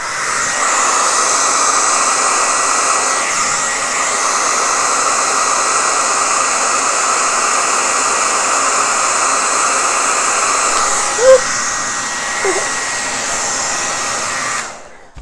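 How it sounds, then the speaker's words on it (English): A hairdryer blows continuously with a loud, steady whooshing hum and a high motor whine, running alone until it switches off at the end. "turn my hairdryer on."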